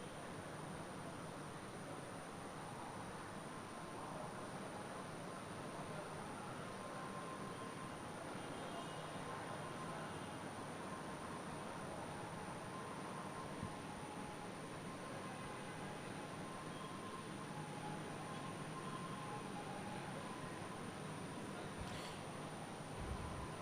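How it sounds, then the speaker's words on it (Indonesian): A steady, smooth rumble of the automated LRT Jabodebek light rail train in Indonesia riding along, constant and even throughout, with a faint high whine above it. "Presiden Joko Widodo tengah menjajal LRT Jabodebek menuju stasiun Cawang"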